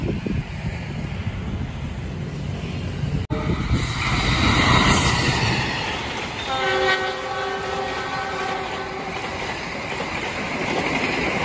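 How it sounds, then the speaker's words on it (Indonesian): The Gajah Wong passenger train rumbles past nearby, its horn sounding a few times midway, with wheels clattering steadily over the rails. "akhirnya kembali lagi ada kereta api Gajah Wong"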